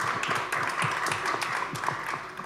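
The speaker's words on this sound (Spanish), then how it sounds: "Un aplauso para ella." A crowd applauding at a film talk in a cinema hall, dense steady clapping that keeps up for the whole stretch with no voices on top.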